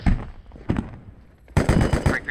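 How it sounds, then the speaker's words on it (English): Emergency gun run in a military shooter game, rapid machine-gun bursts fired in short volleys with brief pauses between, heard close and sharp. "Requesting emergency gun run."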